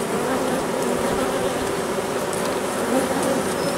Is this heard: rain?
no